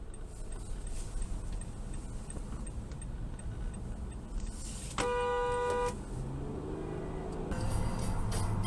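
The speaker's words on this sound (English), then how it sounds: "This guy drifts over into my lane and then honks back at me." A car horn blares once for about a second over steady traffic noise on a winter storm drive in Portland, followed by passing vehicle sounds.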